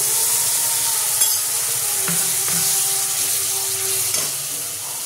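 A paste of ginger, garlic, cashew and melon seeds fries in a pan for a Bengali-style Chicken Lahori, giving a continuous loud sizzle with a few scraping stirs of a spoon running through it.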